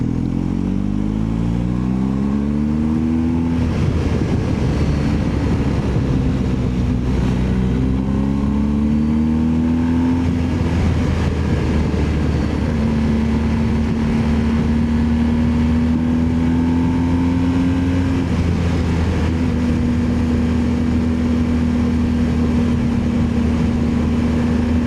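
A BMW R1250 GSA motorcycle engine revs steadily and up close, its pitch rising and falling as it shifts up through the gears to sixth and then back down, with constant road and wind rumble underneath.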